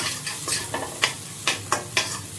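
Fresh coriander leaves drop into a hot oil tempering for potato vada filling, bringing a steady sizzle with a spatula scraping and stirring in a few rhythmic strokes, close and clear.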